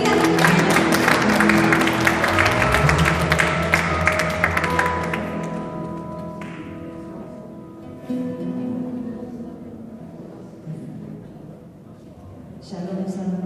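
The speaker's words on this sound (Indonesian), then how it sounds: "Kita berikan tepuk tangan." An audience claps loudly at an evening gathering in Hamburg, a dense burst that holds for several seconds and then thins out and fades, leaving a quieter room.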